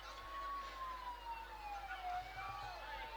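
A wailing ambulance siren sweeping slowly up and down in pitch, moderately distant and steady, with voices murmuring faintly underneath.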